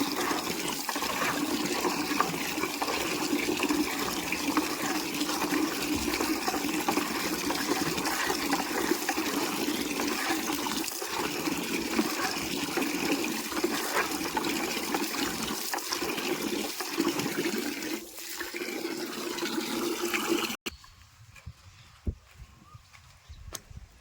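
Steady gushing water filling a bucket for about twenty seconds, loud and continuous, then cutting off abruptly to near silence with a few small drips.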